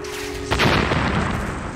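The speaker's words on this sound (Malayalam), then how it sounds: "അല്ല, അത് ബോംബ് ആയിരുന്നു." A cartoon bomb goes off with a single loud boom about half a second in, followed by a rumbling, crackling tail that hangs on to the end of the clip.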